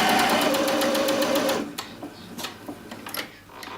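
A sewing machine runs steadily for about a second and a half stitching a dress side seam, a close, loud buzzing whir that then stops, leaving soft handling clicks and rustles.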